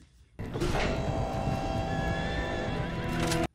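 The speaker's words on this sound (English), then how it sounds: "Are you just gonna have horses on the ship now?" Horses neigh loudly in a scene from the Firefly series, a long, shrill whinny that starts abruptly, rings for about three seconds over clopping and rumble, then cuts off.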